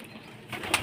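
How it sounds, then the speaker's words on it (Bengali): Pigeons near a brick-built loft, with a soft rustle building into a brief burst of wingbeats near the end, close by and fairly quiet, with no talking. "এই যে দেখেন আমাদের কবুতরগুলো ওই পাশে গেছে।"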